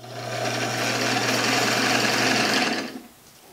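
An antique treadle sewing machine head driven by a homemade motorized base, running with a loud, steady mechanical whir and rapid needle chatter over a low motor hum, then stopping abruptly near the end.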